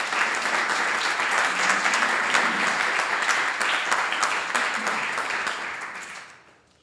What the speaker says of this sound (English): A round of applause to Michelle, please